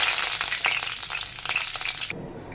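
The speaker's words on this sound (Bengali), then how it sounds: "এবার তেলের মধ্যে দিয়ে দেবো কারি পাতা" Curry leaves hit hot oil for poha, setting off a loud, busy crackle and spatter close by that runs steadily and then cuts off abruptly.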